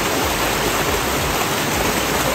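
Water flowing down from the Sahyadri hills rushes in a steady, loud, unbroken roar where people are bathing, with no distinct voices rising above the flow.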